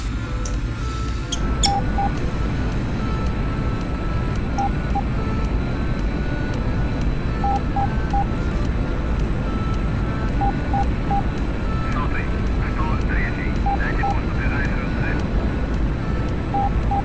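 A military jet rolls down the runway and lifts off in DCS World, its engine roar loud and steady throughout, with repeated short electronic cockpit beeps and brief pilot chatter over it.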